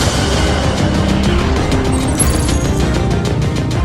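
Lotus Evija electric hypercar in track mode accelerating at full throttle, a loud, steady rush of motor whine, tyre and wind noise heard from inside the cabin, unbroken for the whole stretch.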